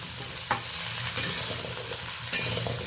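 Mixed vegetables, including pumpkin and ridge gourd, fry in a little oil in a pan, with a steady sizzle and a few sharp scraping stirs spaced across the clip.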